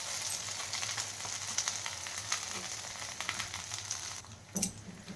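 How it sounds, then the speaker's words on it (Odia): Flower fritters made with a ground lentil batter sizzle steadily in hot oil, a close, continuous crackling fry with a few sharper pops near the end. "ଏବେ ତାକୁ ତେଲ ଏମିତି ଭଲ ଭାବେ ଏପଟ ସେପଟ କରିକି ଭାଜିଦେଲେ।"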